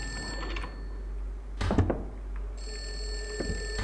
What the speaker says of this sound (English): What? A phone?